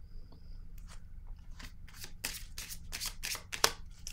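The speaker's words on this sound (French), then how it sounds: "Je vais piger une carte sur le guide." Cards from a tarot deck are shuffled and drawn in a quiet room, giving a run of close, soft riffling and snapping bursts with a few sharper flicks toward the end.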